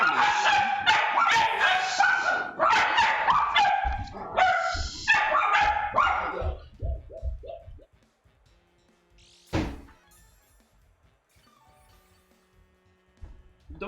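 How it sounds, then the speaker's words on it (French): Several dogs bark and yip excitedly nearby at home in a loud burst, then the barking trails off into quieter scattered sounds and a single thump. "désolé pour les chiens"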